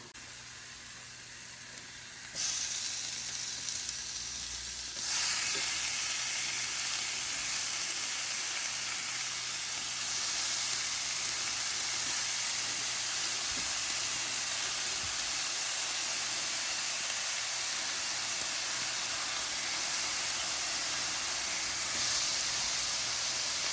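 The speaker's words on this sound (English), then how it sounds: "we'll cook these, push these over to the side, and we're gonna get that steak down" Cheesesteak meat sizzling on a Blackstone 17-inch E Series griddle, a steady hissing fry that jumps louder after a few seconds and holds close and constant, no talking.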